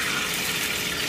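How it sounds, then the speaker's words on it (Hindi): A glass of water pours steadily onto washed, soaked rice in a cooking pot, a continuous close splashing rush that is loud and alone, with no speech. "इसमें मैं अभी 3 गिलास पानी डालूंगी।"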